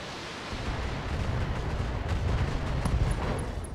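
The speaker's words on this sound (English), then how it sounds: "Oh, nice! An arm, uh, ammo explosion." A mech's stored ammunition cooks off in the BattleTech strategy game, giving a sustained rumbling, crackling blast of game explosion noise that stays loud throughout, with a few sharp high ticks near the end.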